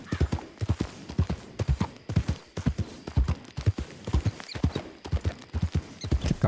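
Steady horse hooves clip-clopping in Red Dead Redemption 2, a rhythmic run of close, even beats that keeps going throughout with no talk over it.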